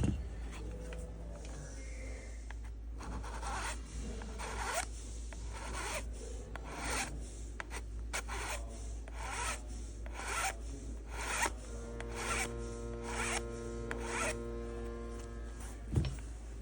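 A coarse file rasping across the magwell of a Walther PDP pistol, repeated back-and-forth strokes in a steady rhythm, close up and continuous for the whole stretch.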